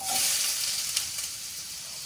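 Apples with cinnamon sugar fry in a hot, slope-sided sauté pan, giving a loud, steady sizzle and hiss that runs on alone, with a faint stir or scrape near the middle.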